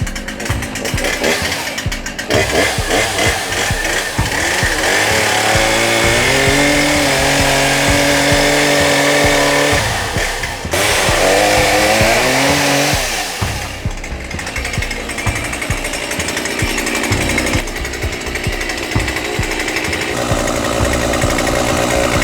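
A chainsaw cuts into a roof during firefighter ventilation training, its engine roaring loud and close for the whole stretch, pitch rising and falling as the bar bites and eases off.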